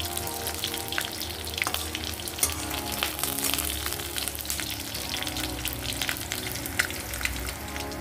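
Garlic frying in hot oil until reddish, making a loud, continuous close-up sizzle with crackling bursts and occasional stirring scrapes, and no talking.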